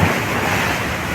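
Ocean waves wash onto the shore of Jomalig Island, a steady, dense roar of surf that fills the whole moment with no break and no voices.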